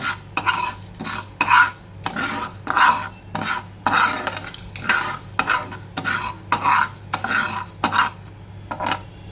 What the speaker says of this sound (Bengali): আর এর মধ্যে আমি একটু লবণ মিক্সড করে দেবো